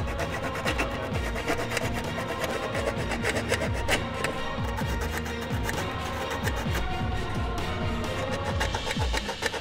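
A small file on a key chain multi-tool worked in long, repeated rasping strokes, close up and steady, with a rough scraping texture over about ten seconds and no talking.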